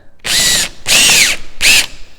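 A power drill starting a hole, with three loud, close bursts of high whining motor speed, each lasting about half a second and separated by short pauses, and no voices.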